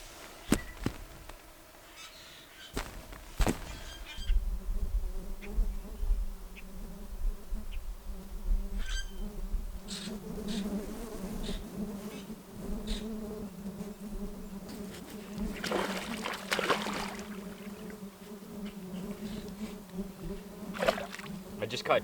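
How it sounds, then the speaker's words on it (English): Insects buzz steadily at a Northern Ontario campsite during a solo camping and pike fishing trip, a thick continuous drone with occasional louder passes near the microphone and a few sharp knocks early on. "There's enough mosquitoes out here to make a grown man cry."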